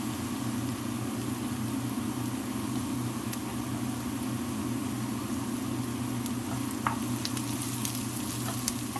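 Garlic rice fries steadily in a pan, a continuous broadband sizzle with a low hum underneath and a few faint clinks near the end, no voices.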